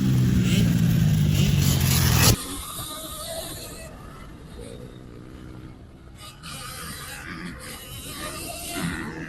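Surron Ultra Bee electric dirt bike running on a motocross track, a steady whirring drive under wind rush with bumps and rattles, following a loud burst of wind noise at the start.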